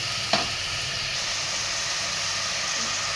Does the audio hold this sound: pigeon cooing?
no